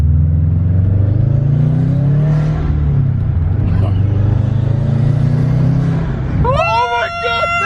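Car engine fitted with an aftermarket intake revving loud and close, a sustained roar with rising and falling pitch through several throttle pulls, followed by excited voices talking at the end.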